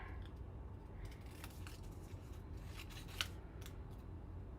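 Scissors snipping through paper ladybug cutouts, a series of short, crisp cuts in an irregular rhythm, close and fairly quiet.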